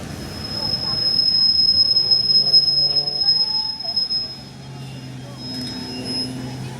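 A KAI commuter train arriving at Juanda station, wheels squealing on the rails as it rolls in, with station announcements and platform chatter underneath.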